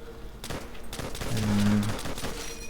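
M1 Garand rifle fire in World at War Zombies, a few sharp shots over a dense, busy game mix of layered effects.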